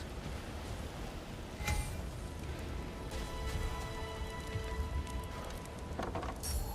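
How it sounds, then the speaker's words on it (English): Steady desert storm rain in God of War Ragnarok, a dense continuous hiss of rainfall at an even level throughout, with a few brief louder gusts or bursts and no voices. "Over a storm like this?"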